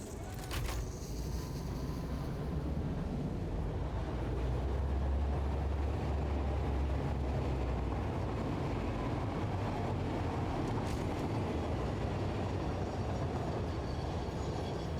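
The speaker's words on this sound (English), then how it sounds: "Train is over there." A train in the factory-building game Satisfactory rumbles past, a continuous low rolling drone with faint rail clatter that holds steady throughout.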